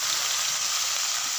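Hot oil sizzles loudly and continuously as boiled pumpkin greens go into a hot pan, a steady close-up frying hiss.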